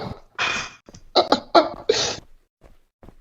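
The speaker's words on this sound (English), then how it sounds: "it sounded like somebody was sobbing and coughing" Coughing in a roleplay game voice chat, several harsh close bursts in quick succession followed by a couple of faint breaths and a short quiet cough.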